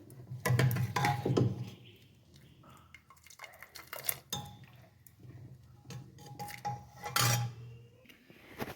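Black chickpea curry being stirred with fresh coriander in a pot, the spoon clinking and scraping against the metal in repeated bursts of clatter, near and moderately loud, with no talking.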